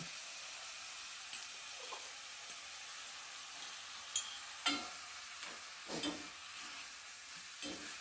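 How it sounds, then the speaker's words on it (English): Okra and pumpkin go into a pot of saltfish, giving a quiet, continuous sizzle broken by a few soft knocks and stirring clatters, close and low in volume. "Then I'm gonna put in my okra and pumpkin."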